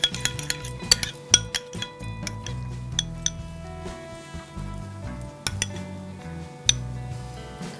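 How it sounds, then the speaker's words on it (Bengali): Spoon clinking and scraping in a bowl as yogurt is whisked, a steady run of light, close metallic taps and clinks with no voices. "দইটাকে একটু ফেটিয়ে দেবো।"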